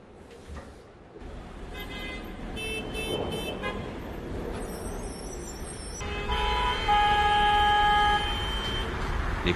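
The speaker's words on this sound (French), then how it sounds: "Les voitures passent et le bruit reste" Cars pass in busy city street traffic, a steady moderately loud road roar with a few short horn toots and tonal whines rising over the flow.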